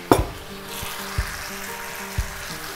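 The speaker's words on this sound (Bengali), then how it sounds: "এখন ভালো মতো কষিয়ে নিচ্ছি" Masala with fried onions sautés in a pan, giving a soft, steady sizzle broken by a few dull knocks of a spoon against the pan.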